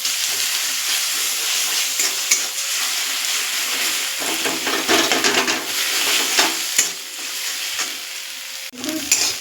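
Eggs with onion, salt and pepper sizzle loudly as they are stirred and broken up in a hot pan, steady frying hiss with scraping strokes of a spatula, close and continuous.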